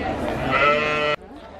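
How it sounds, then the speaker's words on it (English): An orange-dyed sheep gives a loud, close, drawn-out bleat at the Royal Highland Show in Edinburgh, with people talking in the background. "Right, guys, more sheep or lambs."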